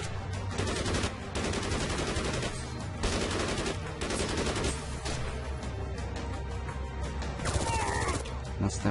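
Rapid bursts of gunfire in the video game Code of Honor 3 crackle almost continuously, dense and loud, with heavy booms underneath and no talking.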